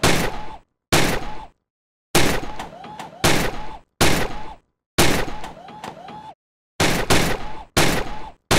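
Gunfire in the VR shooting game Gun Club VR: loud, close bursts of rapid shots in clustered volleys separated by brief silences, with game voice callouts mixed in.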